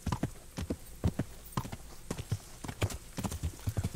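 A horse in the video game Kingdom Come Deliverance gallops with a steady, rapid clip-clop of hooves that continues throughout, fairly quiet, with no talk over it.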